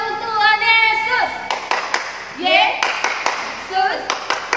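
The Tepuk Tuhan Yesus clapping rhythm rings out at a Good Friday children's church service in Pekanbaru, with sharp bursts of group claps between sung, chanted phrases.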